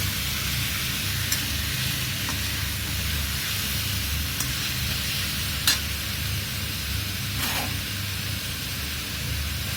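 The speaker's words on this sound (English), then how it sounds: "So when you fry the pork, what happens?" Pork frying in a pan over a high flame for a Mangalorean pork curry, a loud, dense, continuous sizzle and hiss with a few brief scraping stirs, close up.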